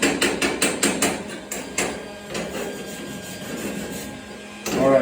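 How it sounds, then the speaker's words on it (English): A wire brush scrubs slag off a fresh, still red-hot weld in quick, close, scratchy strokes: a rapid burst of sharp scrapes at the start, then a steadier rasping rub and a final louder scrub. "If I brush this off, you kind of get some of that slag off."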